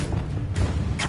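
Reducto blasting spell in Hogwarts Legacy: a short, dense burst of booming impact noise lasting about a second, loud and close, with crackling bursts layered over it.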